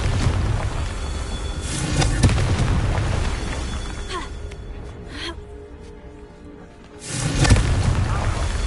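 A Confringo spell explosion in the video game Hogwarts Legacy, a loud, dense booming blast that fades into quieter game ambience before a second heavy burst hits.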